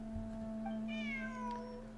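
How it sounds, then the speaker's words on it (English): A single drawn-out cat meow sounds in Genshin Impact, faint and rising then falling over a steady musical drone, with no talking. "Oh, there's a cat."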